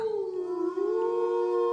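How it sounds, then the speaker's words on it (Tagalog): A loud, sustained dog howl in an audio drama, one long wavering tone that dips and rises near the middle, close and clear over a quiet background. "dalawang magkasunod na alulong naman ang narinig nila"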